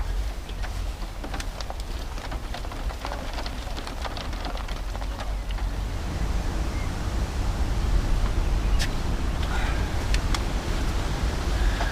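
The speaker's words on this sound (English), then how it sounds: "It's actually hailing at the moment." Hail falling outdoors at a carp-fishing bivvy, a dense patter of sharp ticks and taps on surfaces over a steady wash, growing heavier and louder partway through, with no voices.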